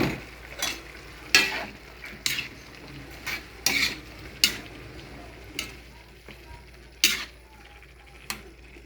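Squash stirred in a hot pan, with repeated sharp scraping strokes of a utensil at irregular intervals over a faint, steady sizzle, close and fairly quiet.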